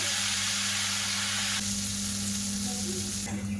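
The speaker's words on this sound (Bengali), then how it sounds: "মিহিদানাটা ভাজা করা হয়ে গেছে" Mihidana, the Bengali sweet of fine gram-flour droplets, frying in hot oil in a home kitchen: a steady, loud bubbling sizzle with a low hum beneath, running unbroken and alone throughout.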